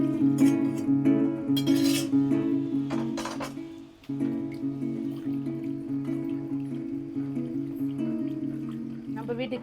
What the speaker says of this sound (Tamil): ஓகே, இப்போ இதில் இந்த தண்ணி இருக்குல்ல, இதை சேர்த்து கடைஞ்சி எடுத்துக்கலாம்.